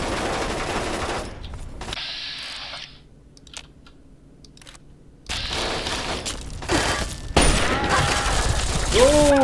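Bursts of gunfire in Fallout 3, loud rattling shots that cut out into a quieter lull, then resume with renewed heavy firing and a few sharp impacts toward the end.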